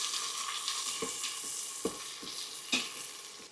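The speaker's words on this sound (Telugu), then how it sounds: "దీనిలోకి ముందుగా ఉల్లిపాయ, పచ్చిమిర్చి, కొత్తిమీర కాడలు ఇవన్నీ వేసుకొని ముందు వీటిని ఆగనివ్వాలి." Onion, green chilli and coriander stems sauté in a pan for tomato rice, a steady sizzle broken by several distinct scraping stirs of a spatula, close and alone.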